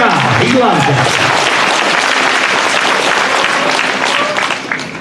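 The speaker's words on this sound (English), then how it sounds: "Give him a good round of applause." A crowd applauds loudly and steadily for a national champion Dutch Harness stallion being shown at a horse sale, the clapping dense and continuous before easing off near the end.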